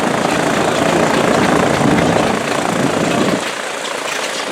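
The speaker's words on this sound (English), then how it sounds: "the World War II plane is starting up" A loud, steady roar of a World War II propeller plane's engine starting up nearby at Camarillo, rumbling continuously before dropping slightly in level near the end.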